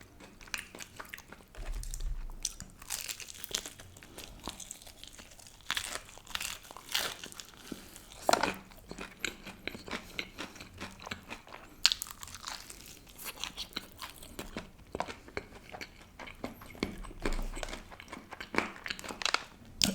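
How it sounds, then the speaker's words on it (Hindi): Close, crisp crunching as someone bites into and chews fried chicken from Al Baik or KFC, with irregular crackly bursts of crust breaking and steady chewing running throughout, nobody talking. "एक बाइट मारते हैं पहले यहाँ से"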